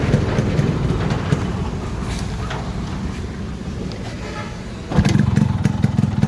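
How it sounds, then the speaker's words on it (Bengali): Yamaha RX100 motorcycle engine started by hand and catching, a rough continuous two-stroke engine rumble with wind noise that grows louder and fuller near the end. "হাত দিয়ে স্টার্ট দিয়ে দেখাই, আবার দেখাই আপনাদের হাত দিয়ে"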